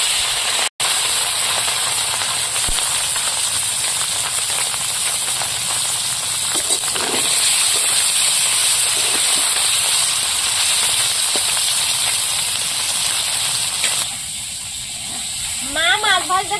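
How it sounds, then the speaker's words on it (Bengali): Small gule fish fry in hot oil with a loud, continuous close-up sizzle that runs steadily and eases slightly toward the end. "এবার আমি মাছগুলো ভেজে নেব। গুলে মাছগুলো আগে ভেজে নেব।"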